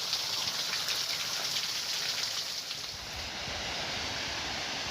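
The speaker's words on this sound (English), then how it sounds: "That's one nice thing about the rain" Steady rain falls through a wooded Kentucky morning, a dense continuous hiss of drops on leaves and ground, evenly loud throughout with no voices.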